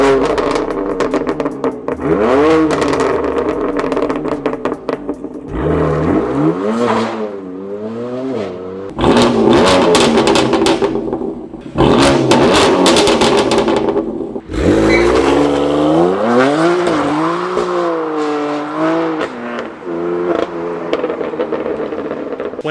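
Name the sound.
car with S55 engine revving on stock exhaust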